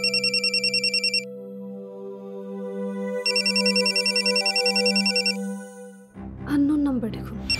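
A telephone rings with an incoming call from an unknown number, giving a close, steady electronic warble in two long bursts over a low sustained drone, then a voice speaks near the end.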